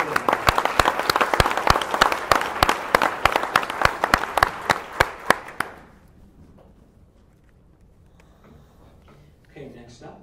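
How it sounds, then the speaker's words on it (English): An audience gives another round of applause for Lisa and Veronica at a NASA GRAIL tweetup, lively clapping with sharp individual claps for about six seconds before stopping, followed by near quiet and faint talk. "Let's give them one more round of applause."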